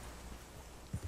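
A horse walks in Red Dead Redemption 2, heard as a couple of soft, brief hoof clops near the end of a quiet, hissy stretch.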